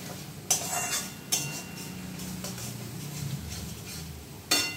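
A spoon stirs spices and ingredients in a cooking pot with Kashmiri chilli, giving soft continuous scraping and mixing under a low rumble, punctuated by three sharp metallic clinks against the pot's rim.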